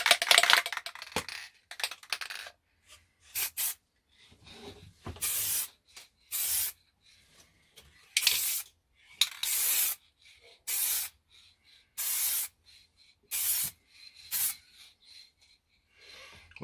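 Base coat paint sprayed from a can onto a car door mirror cover in repeated short bursts, each hiss lasting about a second with brief pauses between, close and fairly loud with no talking.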